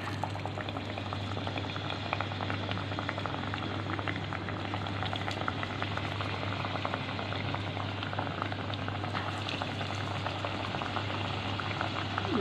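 Spice-coated potato pakoras deep-fry in oil with an even, bubbling hiss that holds steady and fairly soft throughout. No one speaks.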